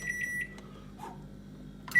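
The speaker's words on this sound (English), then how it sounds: "This goes in the microwave." A microwave oven heating vegetables beeps three times in quick succession, then comes a soft thud and low hum, and another beep at the end.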